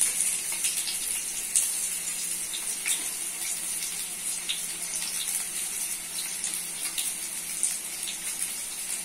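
Potatoes frying in hot soybean oil give a steady, close sizzle with fine crackling that holds evenly throughout, and no voices are heard.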